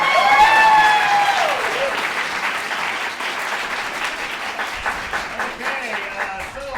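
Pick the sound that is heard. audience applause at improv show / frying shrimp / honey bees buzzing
audience applause at improv show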